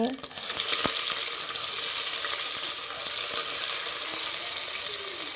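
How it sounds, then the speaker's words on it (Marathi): Chopped onion fries in a pan until brown, giving a dense, even hiss that holds loud and constant with no break and no talking over it. "तो ही छान फ्राई करना एक तो दोन मिनटासाठी लाल ब्राउन होईपर्यंत"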